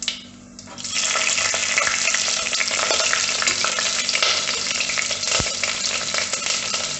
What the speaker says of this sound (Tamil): இப்போ இது நல்லா தாளிக்கு வந்து பொரிஞ்ச உடனே க்ரீன் சில்லிஸ் ஆட் பண்ணிக்கலாம்